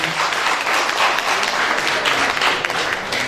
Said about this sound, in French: est-ce qu'on peut les saluer par les acclamations?